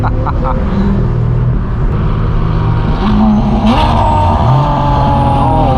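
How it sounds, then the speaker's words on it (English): Straight-piped BMW M4 G82 exhaust roaring loudly with steady revving and rising pitch shifts, close by, mixed with other car engine noise and brief overlapping voices. "This car sounds absurd. I love it. It just sounds so good."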